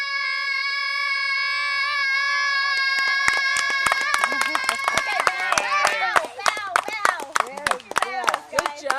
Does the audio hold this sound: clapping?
yes